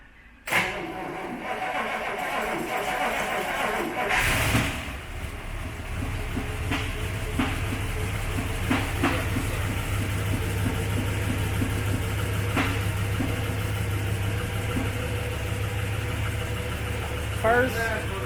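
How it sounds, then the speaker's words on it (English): A restored vintage car on its original 6-volt system, fitted with an 8-volt battery, starts with a brief crank and catches, then settles into a steady, smooth idle that runs on for many seconds up close. "I'm going to start it right here, I think. It is originally a 6-volt system, but I've got an 8-volt battery to make it crank a little faster."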